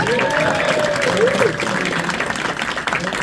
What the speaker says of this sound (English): A big round of applause for Penny.